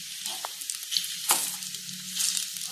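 Besan and egg batter fries in a hot pan with a close, steady sizzle and scattered small crackles and pops, without talk.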